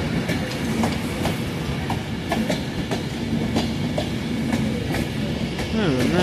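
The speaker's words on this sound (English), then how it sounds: "This train's named City of Coventry." A Virgin Trains Class 390 Pendolino electric passenger train departs Wolverhampton station nearby, its wheels beating a steady clickety-clack over the rail joints beneath a constant mechanical rumble.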